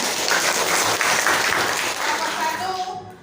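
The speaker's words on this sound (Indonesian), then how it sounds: "Oke, tepuk tangan ya." A classroom of students applauds during a religious-studies lesson, a loud, dense clatter of clapping that holds steady for about three seconds before tapering off, with a few voices mixed in.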